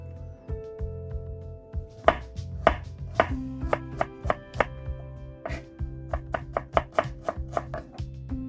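A knife slices garlic cloves on a cutting board in a Korean kitchen while seasoning for spicy salted oyster side dish is prepared, with irregular sharp chopping taps, some in quick bursts, close and fairly clear, with no talking.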